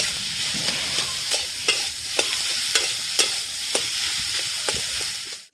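Potatoes with turmeric sizzle steadily in hot oil while a utensil scrapes and stirs the pan in a regular rhythm of clicks, close and clear.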